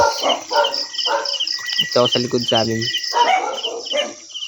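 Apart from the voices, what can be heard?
dogs barking at night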